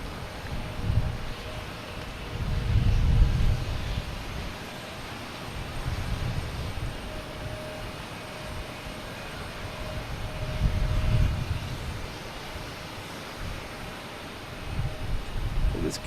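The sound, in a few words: JetBlue airliner arriving at Boston Logan Airport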